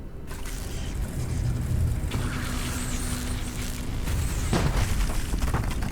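In the video game Kona II: Brume, a new weapon smashes a breakable object, producing heavy booming blasts and crunching debris over a dense, loud rumbling game soundscape.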